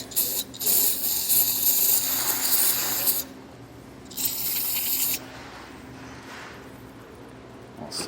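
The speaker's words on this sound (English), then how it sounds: "So that's what we're going to do with some brake clean, just to kind of clean this up a bit more." Brake cleaner aerosol sprayed onto a trailer axle part, two loud close hissing bursts of about three seconds and one second separated by quiet, with a faint hiss trailing at the end.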